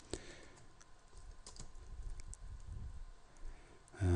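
Sparse, faint keystrokes tap on a computer keyboard against a soft background hum, a few clicks spread unevenly across the stretch, then a louder thump at the very end; no speech.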